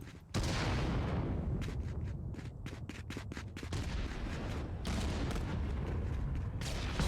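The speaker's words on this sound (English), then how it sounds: "Great Handy Clapper grenade there on the backside" Grenade blasts and gunfire in the ContractorsVR game during a championship match, a dense burst of loud booms and rapid shots sustained throughout with sharp repeated cracks in the middle.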